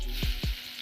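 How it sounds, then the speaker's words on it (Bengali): Chopped onions hit hot oil in a wok, giving a steady, close sizzling hiss with two low knocks of stirring partway through. "পেঁয়াজগুলোকে একটু ভেজে নিব ভালো করে।"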